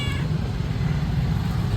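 An office cat meows close by, a single drawn-out, fairly loud cry lasting under two seconds with low room noise behind it.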